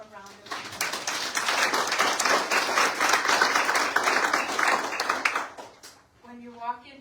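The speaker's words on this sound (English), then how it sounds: "let's give them all a round of applause" Enthusiastic applause from an audience at a historical society's 25th anniversary membership meeting held in a barn. It swells quickly, stays full and steady, then dies away as a voice begins speaking.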